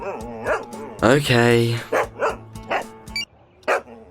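A dog barks several times in short bursts, fairly close, while a man and a woman converse about studying at home.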